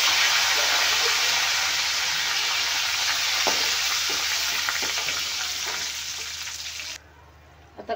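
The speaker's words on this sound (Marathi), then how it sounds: "आता याला छान हलवून घेऊया" Pumpkin chutney with curry leaves is stirred in a pan, a dense, even frying hiss close by with faint spoon scrapes, gradually quieting before dropping off abruptly near the end.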